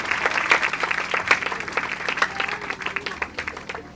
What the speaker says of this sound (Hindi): आइए एक बार फिर खुदा के पाक रूह के लिए जोरदार तालियां बजाइएगा